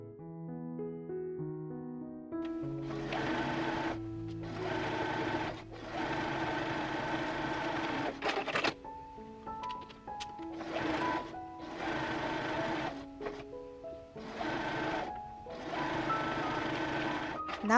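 A sewing machine stitches the side seams of a dress bodice with a half-inch seam allowance, running in repeated bursts of a second or two, while tonal music or beeping plays underneath.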